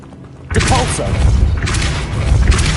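A Depulso spell goes off in Hogwarts Legacy, a loud booming thud followed by a dense burst of crashing impact noise lasting a couple of seconds.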